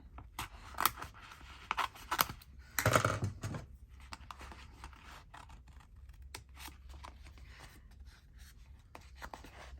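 Scissors snipping paper to cut out a window for a handmade journal, with a few close, crisp cuts and rustling paper, then softer handling noises; quiet overall.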